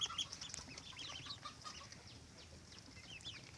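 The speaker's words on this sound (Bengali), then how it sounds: "এই যে আমার হাঁসের বাচ্চা" Ducklings call from a backyard flock of ducks and chickens, with faint, scattered high peeping chirps over quiet background noise.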